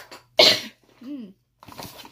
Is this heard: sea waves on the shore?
no